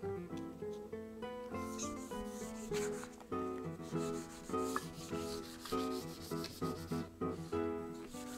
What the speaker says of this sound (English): I'll also wet sand the rest of the table parts in a similar manner as was done with the tabletop